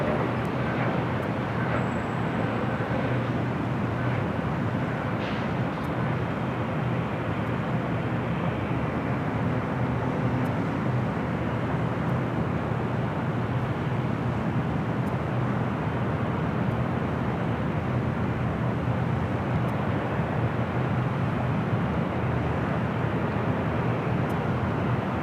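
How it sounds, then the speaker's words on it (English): A Delta Air Lines Airbus A321neo lands at Los Angeles International Airport, heard as a steady, broad jet roar that stays level for the whole stretch, with faint background traffic noise. "That was the Delta A321 Neo coming in from Atlanta, Georgia."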